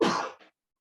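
A single short, sharp sneeze close to the microphone during an indoor interview, a burst that cuts off quickly with a brief softer tail, followed by silence.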